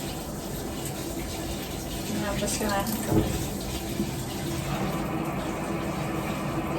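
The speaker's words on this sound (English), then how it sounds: "just put the washing machine on for a load of washing at the same time" Water rushes steadily into a domestic washing machine as it fills, a continuous hissing flow with a brief clunk midway and a person speaking briefly over it.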